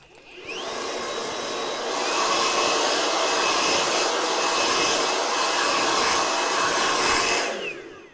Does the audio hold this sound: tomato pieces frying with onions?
no